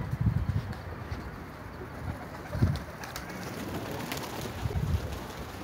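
Female karabaş pigeons in a coop give low throaty coos in a few separate bursts over a faint steady background hum.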